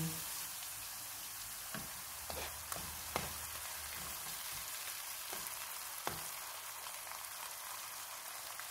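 Chopped green chillies with ginger, garlic and tomato frying in a pan for dahi wale aloo make a soft, continuous sizzle, punctuated by several faint crackles and pops from spattering oil.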